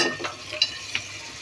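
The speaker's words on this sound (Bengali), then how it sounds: "এখন আমি চনার ডালগুলো দিয়ে দিচ্ছি।" Chana dal tipped into a hot frying pan and stirred, giving a quiet, steady sizzle with a couple of sharp scraping clinks of the spoon against the pan, heard alone over about a second and a half.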